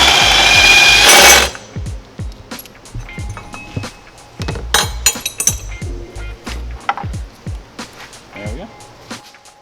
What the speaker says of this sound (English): we're going to need to loosen up this bracket. So I'm just going to take the two bolts out